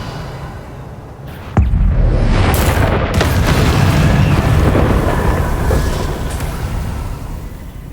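A sudden heavy boom from the Confringo fire spell in the video game Hogwarts Legacy, cast against Inferi, gives way to a long sustained roar and rumble that fades slowly.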